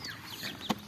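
A brief, soft chicken cluck rises out of a low farmyard murmur, with one short, louder peak near the end.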